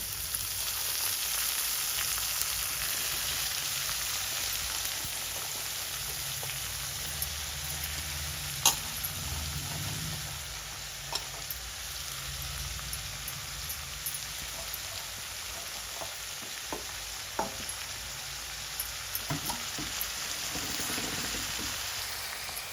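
Spring onion frying in a pan, a steady, even hiss like light rain, moderately quiet and close, with occasional clicks and taps of a utensil and no speech.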